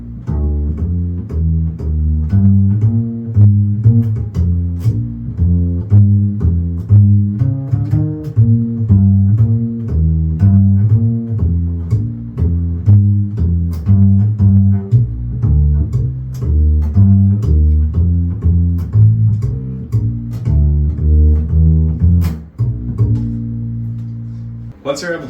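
A string instrument plays a steady Bb blues line across the fingerboard using open strings, a continuous run of plucked notes with a lively rhythm, loud and close throughout with no talking.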